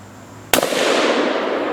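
A single bolt-action rifle shot fired outdoors: one loud, sharp crack close by, followed by a long, rolling echo that slowly dies away.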